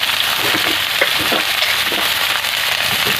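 Tender bottle gourd leaves hitting a hot pan of fried vegetables, a loud dense sizzle with sharp crackling pops throughout, close and continuous with no voices.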